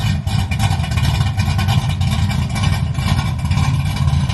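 A G-body car engine runs loud and close, revving steadily with a deep rumbling throb that holds throughout.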